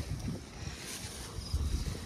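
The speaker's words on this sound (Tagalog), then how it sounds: "Malakas kasi pala talaga ang hangin dito." Strong wind on Colosboa Hills, Cuyapo, Nueva Ecija, buffets the microphone in a constant rushing roar with low gusty thumps, no voices.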